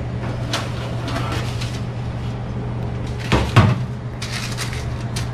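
A home oven door swings open after baking a boxed gluten-free pizza, a brief clunk and creak over a steady mains hum and low room noise.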